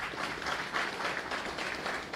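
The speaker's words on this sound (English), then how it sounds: "Let's clap hands for him." Audience applause at a sustainability roadmap launch event, moderately faint and somewhat distant, with the clapping swelling in uneven waves.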